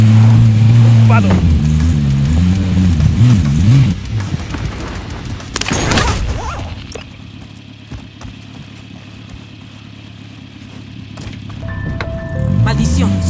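A vehicle engine hums and rises in pitch while driving in the Warzone Pacific video game, loud and steady at first, then easing off, with a burst of noise midway and game sounds near the end.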